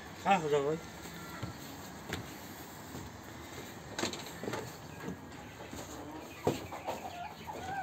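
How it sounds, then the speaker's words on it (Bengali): Farm chickens cluck and squawk intermittently at close range, with one clear rising call near the start and scattered softer clucks over quiet background noise. "এখানে ওর মুরগি, কতগুলো মুরগি দেখছেন"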